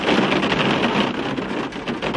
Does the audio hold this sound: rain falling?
yes